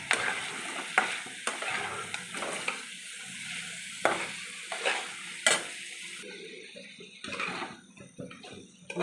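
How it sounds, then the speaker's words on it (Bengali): Chicken cooked down in black cumin paste masala, frying and being stirred in a pan, with scraping strokes and brief clatters over a steady sizzle, fairly close, the sizzle easing near the end. "কালো জিরে দেওয়ার পরেও আমি কিন্তু মশলাটা আরেকটু কষে নেবো মাংসটা।"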